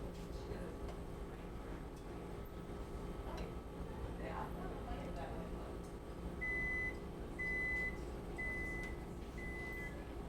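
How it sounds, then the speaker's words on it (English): Four short high electronic beeps from a kitchen timer at a regular rhythm, sounding through a steady background rumble with faint voices in a restaurant kitchen. "What does that beep mean? Pasta's done."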